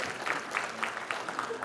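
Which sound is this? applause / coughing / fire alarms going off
applause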